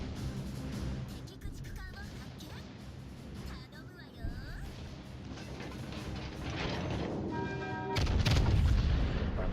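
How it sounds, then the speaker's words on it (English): Warship main-gun salvos in the naval game World of Warships Legends, heavy booming shots among the rumble of battle, growing louder to a deep blast near the end, with a voice talking underneath. "I'm just going to get an extra salvo off before."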